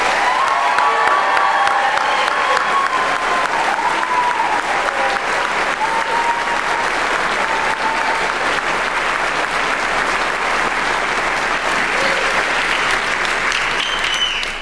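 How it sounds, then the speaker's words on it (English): A large audience applauds and cheers for graduates at a forest and rangeland stewardship ceremony, sustained loud clapping with scattered whoops and shouts running unbroken for the whole stretch. "Let's give these graduates a round of applause."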